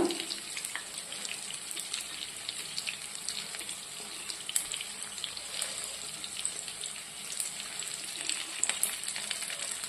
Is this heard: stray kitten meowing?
no